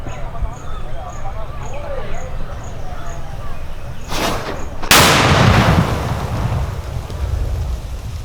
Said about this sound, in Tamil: இது பெரிய மாப்பிள்ளை. சரிங்க. இப்போ நீங்கள் வந்து கும்பாபிஷேகம் திருவிழாக்கெல்லாம் போகிறீங்களா?